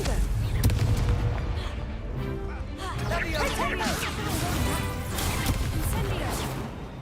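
Blasting-spell explosions boom and crack through a busy Hogwarts Legacy battle, with dense rumbling impacts, debris crashes and magical whooshes layered over constant combat noise and shouted voices.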